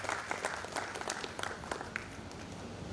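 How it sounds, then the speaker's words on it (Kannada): An audience at a Kannada cultural festival stage event applauds a dancer, a steady spread of many hands clapping at a moderate distance, fairly faint and continuous. "ಚಪ್ಪಾಳೆ."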